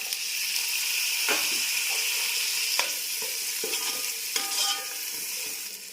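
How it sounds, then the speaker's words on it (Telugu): Grated coconut sizzles steadily in hot oil with ginger-garlic paste, stirred in a pan for paneer pulao, with occasional scrapes of a spoon against the metal over a continuous frying hiss. "కొబ్బరి కూడా వేసుకున్నాను, వేగింది."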